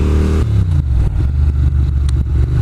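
A Ducati Monster 600 motorcycle ridden slowly through a 20 zone, caught between gears and juddering, gives a loud, close, lumpy engine drone with uneven low pulses throughout.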